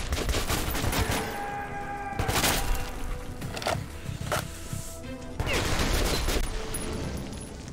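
Gunfire in the video game Metro 2033 Redux: rapid bursts of shots and sharp cracks in a fusillade, loud and close, with a brief pause midway before the shooting resumes; a voice can be heard faintly now and then.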